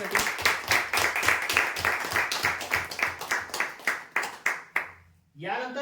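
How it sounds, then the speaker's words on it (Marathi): Audience clapping at a prize draw announcement, a run of rhythmic, fairly loud claps in unison that stops abruptly, followed by a voice starting to speak. "जोरदार टाळ्या होऊ द्या"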